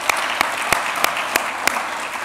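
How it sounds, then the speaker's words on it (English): Audience applause at a lecture, a dense round of clapping with a few sharp, louder claps standing out at a steady beat close by, with no talk over it. "So let's give them all a big round of applause."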